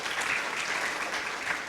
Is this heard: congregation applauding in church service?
yes